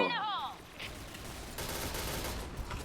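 Gunfire in the online shooter Point Blank, a burst of shots and rapid fire mixed with game effects, moderately loud and steady across the moment with no talk over it.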